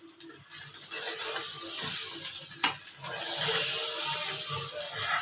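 Coconut pieces sizzle in hot oil in a pan with bay leaves, cinnamon and cardamom, a steady close hissing fry with small crackles and one sharp pop partway through.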